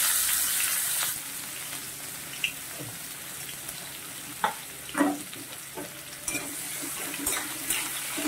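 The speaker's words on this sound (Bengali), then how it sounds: "এবার ওই তেলে একটা তেজপাতা ছিঁড়ে দিয়ে দেব, আর দেব দুটো মিডিয়াম সাইজের পেঁয়াজ কুচি করে রেখেছিলাম," A torn bay leaf and two chopped medium onions hit hot oil and sizzle and fry steadily at a low level, with a few clinks and stirring scrapes.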